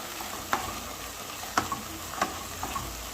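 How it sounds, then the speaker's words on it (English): Paprika being stirred in a frying pan over a continuous sizzle, with four light scraping taps of a utensil against the pan spaced about a second apart, close-up and fairly quiet, no voices. "Then I stir again."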